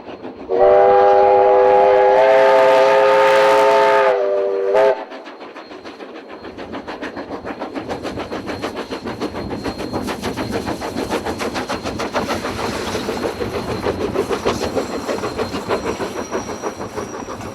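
A train on a scenic branch line railway sounds a loud multi-tone horn for several seconds, then runs on with a steady rhythmic clatter of wheels over rail joints, close and sustained.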